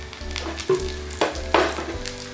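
Oil sizzling in a pan as Maggi pizza cooks, a continuous close frying hiss with a few louder crackling bursts and light stirring scrapes.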